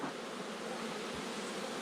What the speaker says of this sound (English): And the bees are getting a little defensive with me, so I'm giving them extra smoke to keep them at bay.